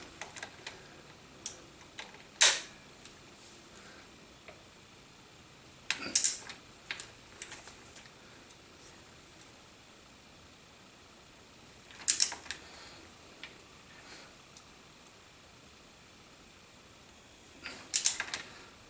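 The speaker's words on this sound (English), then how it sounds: "We are going to torque this one down." A torque wrench tightens a bolt on a KTM 690 Enduro during an oil change and clutch job, with sharp isolated clicks at spaced intervals, several sounding as quick double clicks, against a quiet workshop background.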